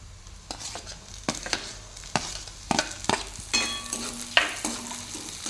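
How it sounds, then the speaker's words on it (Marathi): Onion and green chillies sautéing in oil in a pan, a soft sizzle broken by several sharp scrapes and knocks of a stirring spoon, close and moderately loud. "ओली मिरचीसुद्धा मी आता एक मिनिट परतणार आहे"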